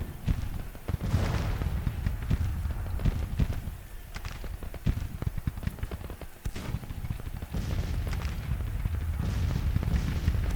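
Musket volleys and artillery fire from a Civil War battle in Grand Tactician: The Civil War, Federal summer 1861 campaign, heard as a dense, continuous roll of overlapping loud cracks and booms with no pause.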